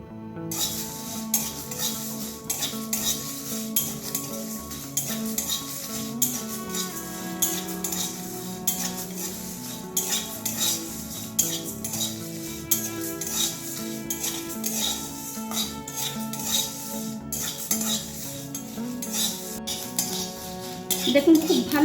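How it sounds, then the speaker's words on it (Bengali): Whole spices dry-roast in a kadai over a gas flame, with a spoon scraping and clinking against the metal in a steady stirring rhythm and a faint sizzle underneath. "এবার কড়াইয়ের মধ্যে সব মশলাগুলোকে আগে শুকনো অবস্থায় ভেজে নেব।"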